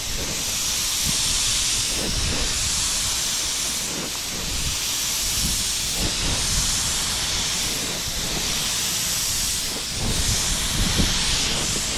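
Spray gun laying clear coat over base coat on a Honda Civic in an autobody paint job, a steady loud airy hiss that runs continuously with slight surges, close up and without talk.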